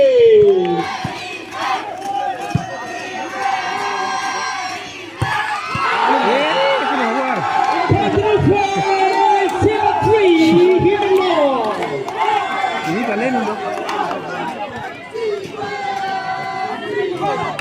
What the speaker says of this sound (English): And again, let's cheer for the SIBE.